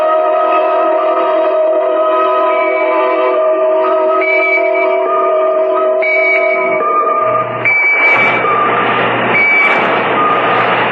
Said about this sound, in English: I've got a pocket alarm watch, and it keeps trying to tell me something.